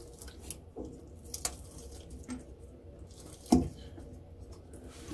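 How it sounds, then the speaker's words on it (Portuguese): A faucet stuck down with silicone is twisted and pried loose with a tool, giving quiet squishy creaks and a few sharper snaps, the loudest near the middle, over a faint background hush. "Tá descolando a torneira lá, soltando"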